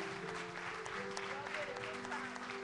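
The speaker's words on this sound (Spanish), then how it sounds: "Un fuerte aplauso a nuestros músicos" Church congregation applauding the worship musicians and singers, a dense steady wash of clapping that fills the whole stretch, with a sustained tone and some voices mixed underneath.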